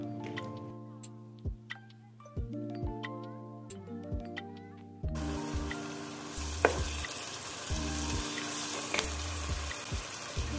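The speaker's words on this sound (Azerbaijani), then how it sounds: "Üzərinə bitki yağı əlavə edib qovururam." Onions fry in vegetable oil in a pot for Georgian kharcho soup. A dense, steady sizzle enters halfway through and continues under background music that plays from the start.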